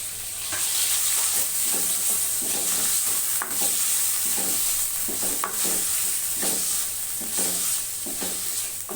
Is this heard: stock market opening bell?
no